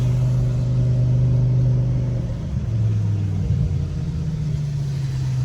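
BMW E60 M5 V10 fitted with a lightweight flywheel, its engine humming steadily from inside the car, rising and settling through light revs and a downshift, fairly subdued with no talking.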